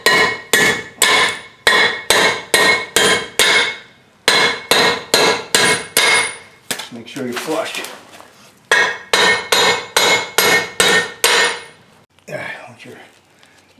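Steel hammer whacks knocking wheel studs out of a hub-type rotor from a 1995-97 Ford F-250, sharp metallic blows in rapid bursts of four to six, close and loud, with a brief spoken remark between bursts.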